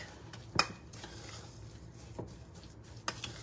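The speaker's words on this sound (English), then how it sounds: "we're going to stir that in" Spoon stirring vanilla into a thick apple dumpling mixture in a bowl, giving a few soft scrapes and a couple of sharper clinks of utensil against the dish, close and quiet with no talk.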